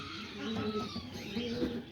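White and pinto pigeons in a loft coo softly and repeatedly, low rolling calls close by, with a few faint rustles and chirps in the background.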